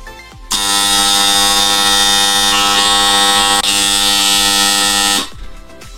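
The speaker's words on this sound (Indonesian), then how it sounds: "Pertama kita coba menyalakan channel 1, maka alarm 1 akan aktif." A loud, steady electronic alarm tone from an audio paging system buzzes continuously for about five seconds, then cuts off abruptly.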